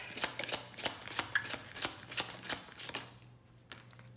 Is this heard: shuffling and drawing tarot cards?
yes